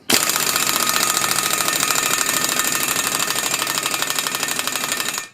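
Impact gun hammers rapidly while tightening wheel studs on a 1973 05 Eagle bus, a loud, close, continuous rattling burst lasting several seconds without talk.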